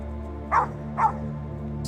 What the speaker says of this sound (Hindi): एक माइनर का डॉग उस बोरेहोल के पास ही होता है, जो उनके शोर को हल्का सा महसूस करता है और गिल की ओर भौंकने लगता है